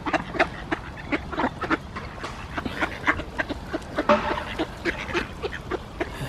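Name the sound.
seagulls calling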